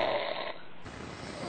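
Snoring at a steady moderate level: a single rough, rasping breath noise, with a shift in tone partway through, heard alone without any voices.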